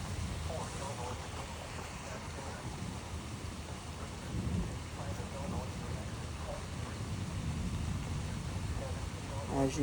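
Heavy rain and gusty wind roar steadily through a severe thunderstorm line in Troy, Illinois, with low rumbles of thunder rolling underneath; the noise is dense and continuous, with a slight swell near the middle and end.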